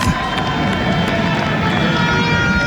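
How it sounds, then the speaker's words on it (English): Cricket crowd at Sabina Park in Kingston during a West Indies v Australia Test, a steady, dense roar of cheering and noise that fills the whole stretch without pause. "And the crowd is up. You can hear it in the background."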